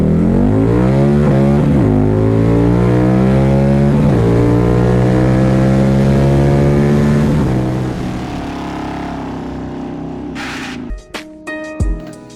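A Harley-Davidson V-Rod Night Rod motorcycle accelerating hard from a stop, the loud engine climbing in pitch through several gear changes, then easing off and fading as clicks and handling noises follow.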